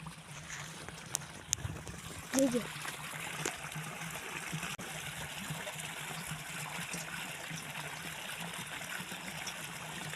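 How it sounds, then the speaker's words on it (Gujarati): Pendimethalin 38.7% herbicide liquid poured into a sprayer pump tank, a soft continuous trickle and gurgle of liquid, close and low, with a brief louder splash near the start. "તો આપણે આ આને પંપમાં નાખી દઈએ મિત્રો"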